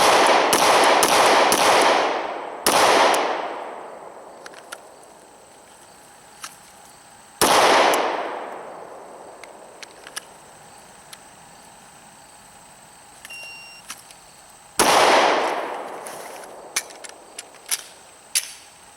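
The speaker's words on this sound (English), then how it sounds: "So I've shot a couple of shots." Three loud, close gunshots from a Glock 23 .40 S&W Gen 4 pistol fired at a target, with a quick burst of shots at the start and two single shots, each sharp crack trailing off into a long echo between shots.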